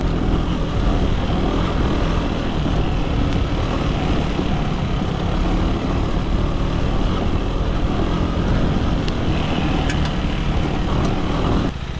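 A KTM 390 Enduro R motorcycle rides along a dirt road, its engine droning loud and constant under heavy rumble and wind noise from start to finish.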